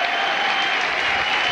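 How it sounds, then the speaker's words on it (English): The St Helens rugby league crowd gives Alec Murphy a loud, sustained round of applause at Wembley, a dense unbroken wash of clapping from a large stadium crowd. "Alec Murphy getting a brilliant round of ovation here from the St Helens crowd"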